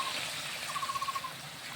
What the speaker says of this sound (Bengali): একটু পানি দেবে ঝোলের জন্য।